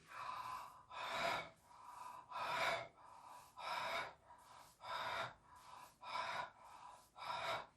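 Deep, slow breaths drawn in and let out during a chakra breathing exercise, a steady breathy rhythm of about eight audible inhales and exhales, close and with no talk.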